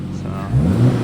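A car engine idles and then rises slightly as the car is pulled out, a low nearby rumble swelling briefly toward the end.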